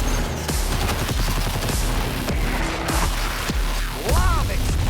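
Repeated booming explosions and bursts of gunfire crash through a loud, chaotic game battle, with a voice briefly speaking near the end.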